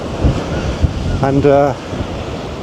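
Rough sea rolls in at the water's edge by a pier on a breezy day, wind buffeting the microphone under steady surf, while someone speaks briefly in the middle.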